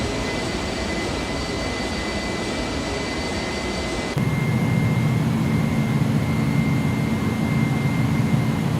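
A jet airliner climbs after takeoff in a flight simulator, a steady, loud engine roar with a constant whine, and the low rumble swells noticeably partway through.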